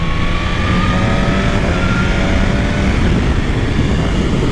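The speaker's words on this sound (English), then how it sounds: "The flick of the throttle, bro. Just a flick of the throttle." A BMW S1000RR motorcycle engine runs loud and close, a steady rough roar with faint rising whine tones as the throttle is held, without speech.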